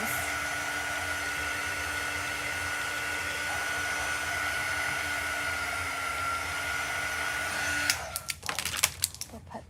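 Handheld dryer blowing steadily at close range to dry a chalk transfer, a continuous whirring hiss that cuts off near the end, followed by a few clicks and rustles.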